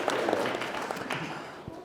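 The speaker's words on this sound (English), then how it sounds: "Let's give her a little hand of applause, a little round of applause" Wedding guests at a ceremony give a light round of applause, moderately loud and fairly close, with a few scattered sharper claps and faint voices mixed in.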